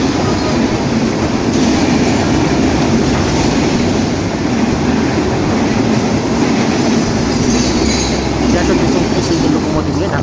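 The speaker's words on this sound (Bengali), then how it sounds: "এই মুহূর্তে প্রবেশ করছে নীলসাগর এক্সপ্রেস অত্যন্ত দ্রুতগতি সম্পন্ন এই ট্রেনটি।" Nilsagar Express, a 765 Up train from Dhaka to Chilahati, passes at speed through Azimnagar railway station on line 2. The broad rumble and rolling clatter of the wheels are loud and steady throughout, and faint voices sit underneath.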